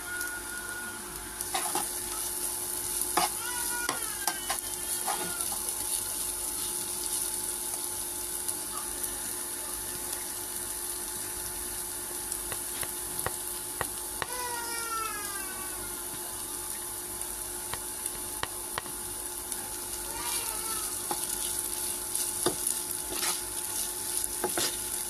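Onions with a little ginger and garlic frying in a pan, a steady close sizzle broken by repeated scraping stirs, with no talk over it.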